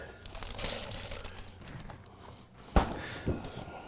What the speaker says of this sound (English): I'm just going to lay some plastic on the cutting board